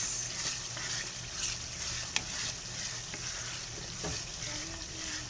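Kagikit, a topping for pastil, being mixed in a hot pan: a steady sizzle with soft stirring scrapes and an occasional sharp tap of the utensil.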